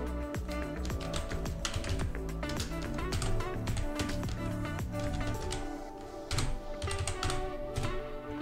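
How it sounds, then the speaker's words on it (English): Rapid typing on a computer keyboard, dense clicking keystrokes in quick bursts with a brief pause near the end, close and clear. "we can type our text, so what we want to be written on our button"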